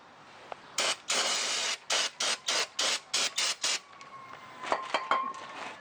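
Brake cleaner hisses onto Saturn Ion brake parts in about nine short, loud, evenly spaced spray bursts, followed by quieter handling clicks and clatter.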